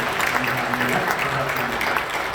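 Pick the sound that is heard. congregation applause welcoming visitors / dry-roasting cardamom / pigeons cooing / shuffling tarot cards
congregation applause welcoming visitors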